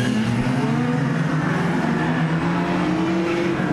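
Loud race cars at the PBIR track, with engines whining and rising in pitch as they pass one after another in a continuous roar, close by and unbroken.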